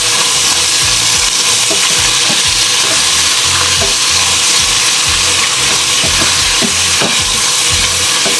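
Meat frying in a smoking pan for a New Orleans red beans and rice meal, with a loud, constant sizzle and repeated scraping strokes of a utensil stirring it close up.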